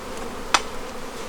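Steady, soft buzzing of many honey bees drawing out comb fills a hive box, with a single sharp knock or click partway through.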